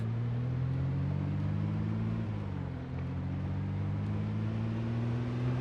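A truck engine drone from Project Zomboid, a steady low rumble with a slight pitch dip midway as the vehicle drives, continuous and fairly loud with no speech.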